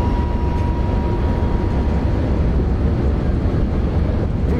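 BR 101 hauling an Intercity train in Train Simulator Classic, a steady loud rumble of running gear and rushing wind at speed, continuous and unbroken.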